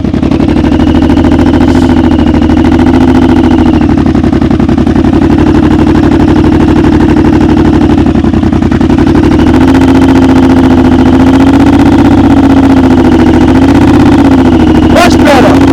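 A motorcycle engine drones steadily and loudly at low speed with the throttle held up, its pitch wavering only slightly throughout slow-speed riding practice.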